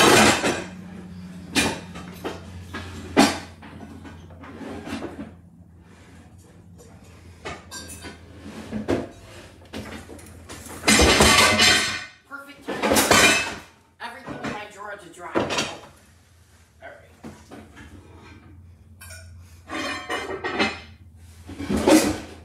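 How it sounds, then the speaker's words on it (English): Cookware clanks and bangs as a Dutch oven is pulled out from among pots and pans, with bursts of metallic clatter and thuds separated by quieter gaps, a person talking between the noises. "let me pull out my Dutch oven so we can compare"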